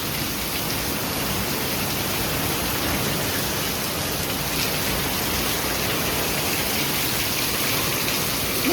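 Steady rain falling outdoors after a sudden downpour, a dense, even hiss of drops on surfaces that holds constant from start to finish with no voices.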